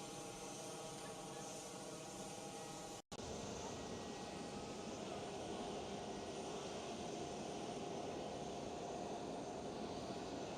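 A British Airways Airbus A320 airliner at Amsterdam Schiphol gives off a steady, fairly faint broadband engine roar, broken by a brief dropout early on, then continuing evenly.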